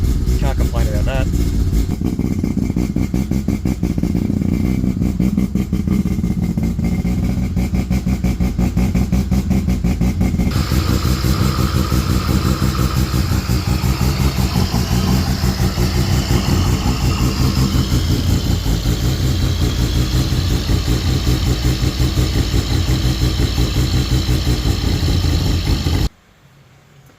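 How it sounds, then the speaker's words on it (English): A tuned Mazda RX-8 rotary engine with a cable throttle idles steadily from a cold start, a loud, constant, buzzing drone close by with a slight rise partway through and someone talking over it, then it cuts off at the end. "you turn the key, it starts and it idles, I mean, from dead cold"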